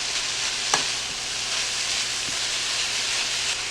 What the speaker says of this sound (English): Now you just want to keep stirring this until the cabbage is nice and soft and wilted down